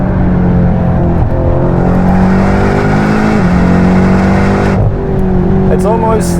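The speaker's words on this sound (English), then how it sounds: "It's almost a little bit uneventful how this car accelerates" BMW M8 Competition accelerating hard, a loud, close engine roar rising through the gears with short dips at each shift, steady and dense throughout.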